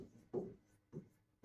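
Writing on paper during a math lesson, heard as three short, faint scratchy strokes spaced about half a second apart, very close and with no talk.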